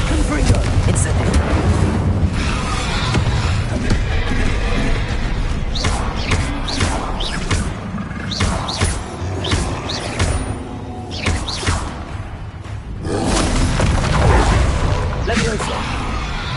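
Spell blasts from Confringo and Incendio in Hogwarts Legacy, a dense run of booming impacts and crackling bursts layered with thuds and mechanical rumble, continuing across the whole stretch with a voice calling out over the action.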